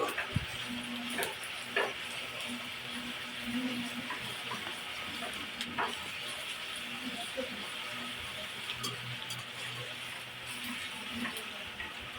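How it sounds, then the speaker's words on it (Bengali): Cumin paste with ginger and garlic frying in oil for a North Bengal alu ghati dish, a steady low sizzle running throughout with occasional clinks of stirring. "আদা রসুন মিক্স করে দিলাম, তেলের মধ্যে একটু ভেজে নিলাম"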